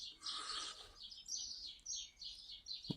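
Small birds chirp and trill outdoors in a quiet setting, a string of short high repeated calls from a few meters off, faint and alone, with one brief low knock near the end.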